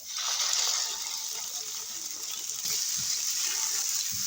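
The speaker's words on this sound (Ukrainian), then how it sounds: "Так пару хвилин хай воно просмажиться із кетчупом." Carrots and onion sizzle with ketchup in a pan, a steady, fairly loud hiss of frying throughout, with a few faint clinks and no talking.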